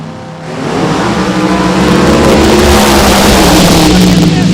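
Funny car drag racing at Cordova Dragway during Summer Nationals qualifying: two cars launch side by side with a loud, sustained roaring engine blast that builds and holds throughout.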